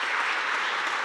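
An audience applauds after a lecture, a dense, steady burst of many hands clapping together, loud and close.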